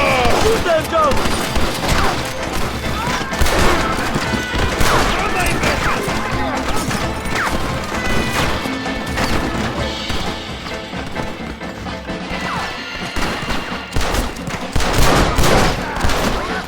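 Dense gunfire from a Red Dead Redemption shootout, with rapid overlapping shots and crashes over swelling orchestral music, and voices shouting in between.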